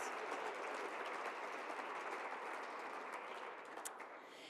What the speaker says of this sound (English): let's give those 3 a big round of applause too